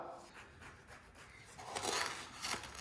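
Grating an ingredient by hand for Greek Easter biscuit dough, a soft rasping rub that repeats in uneven strokes and grows a little louder toward the end, close and quiet.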